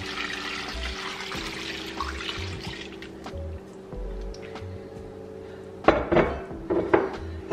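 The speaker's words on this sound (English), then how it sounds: "I'm just gonna go ahead and add the water." Water is poured into a cooking pot holding vegetables, a rushing pour that fades after a few seconds, followed by a few sharp metallic clanks of the pot and utensils.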